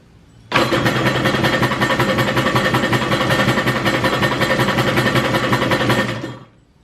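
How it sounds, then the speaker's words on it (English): A Kawasaki 650SX jet ski donor engine runs at wide open throttle during testing. It gives a loud, close, sustained roar that starts abruptly, holds steady for about five and a half seconds, then cuts off. "Throttle wide open."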